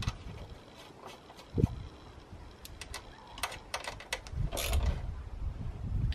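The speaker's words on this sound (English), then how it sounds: "There we go, that's those two nuts tightened down." Ratchet wrench tightening two 10mm nuts on the intake studs of a BMW N52 engine, a series of quick, light clicking bursts close to the microphone, with no talking.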